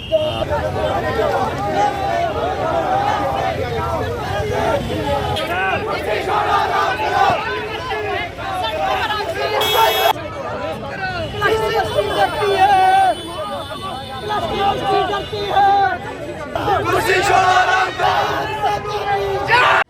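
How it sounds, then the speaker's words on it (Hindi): A student protest crowd: many voices chant and shout together in a loud, continuous hubbub, dense and rhythmic slogans near at hand, with a single voice speaking above the throng at times. "ये प्रदर्शन विद्यार्थियों द्वारा 6 दिन से रखा जा रहा है"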